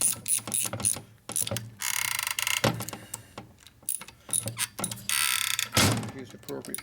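Ratcheting and metallic clicks from bolts being tightened down on the pump cover of a 1992 Harley FXR Evolution 88ci motor during a rebuild, arriving in short bursts with pauses, close and fairly loud.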